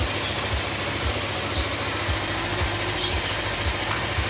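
A BMW G310GS motorcycle engine idles steadily with a low, regular chugging pulse after a new battery is fitted, close and continuous, with no voices.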